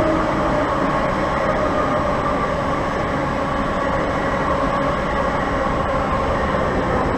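A train rolls slowly through Purley Oaks station with a loud, steady rumble and rattle, constant from start to finish, heard from close by.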